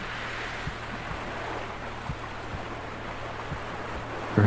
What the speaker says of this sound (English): Perhaps you can even hear the sound of the water gently flowing.